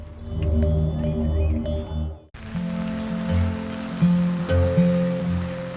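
Rain pours steadily over a crafts village of shuttered shops, a dense even patter close by with a low rumbling undertone, shifting to a brighter, busier downpour partway through.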